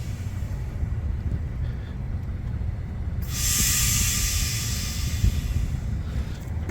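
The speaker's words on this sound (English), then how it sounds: "putting air in the front tire" Air hissing into a car's front tire during inflation, a sudden bright hiss starting about midway and holding steadily for several seconds over low background rumble.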